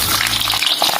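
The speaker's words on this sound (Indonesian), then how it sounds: "Kemudian goreng bawang merahnya." Shallots fry in hot oil in a pan for a Madura satay peanut sauce, giving a steady, close, hissing sizzle throughout with no talking.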